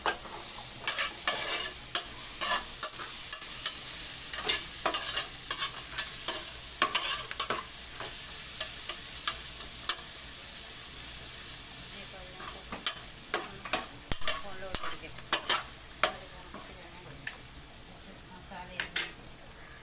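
Onion, coconut pieces and curry leaves stir-fried in a pan, giving a steady close sizzle throughout, punctuated by frequent scraping and clinking stirring strokes.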